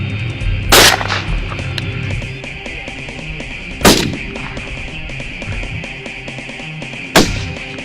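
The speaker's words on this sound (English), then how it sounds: "come and shoot him!" Three sharp gunshots crack out during a hunt, spaced a few seconds apart, loud and close, each with a short echoing tail over a steady background hum.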